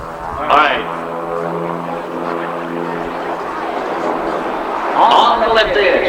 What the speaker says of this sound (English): bring the airplane down almost to the surface of the runway